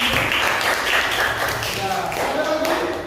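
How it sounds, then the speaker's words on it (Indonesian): Students in a classroom give a short round of clapping for their classmates, a brisk patter of many hands at moderate volume that fades toward the end, with a teacher's voice speaking over it. "Berikan aplaus untuk teman-teman"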